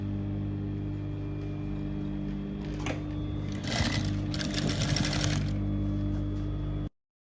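A sewing machine stitches a half-inch seam on a baby dress, a close, steady motor hum with a brief faster run of stitching in the middle before it stops abruptly.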